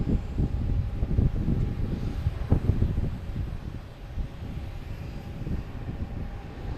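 A jet airliner at Logan Airport, a broad continuous engine roar with wind rumble, heard from a distance and holding steady for several seconds.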